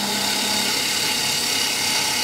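A roughing gouge cuts along a turning sword part on a wood lathe, giving a steady, loud broadband hiss with no pauses or breaks.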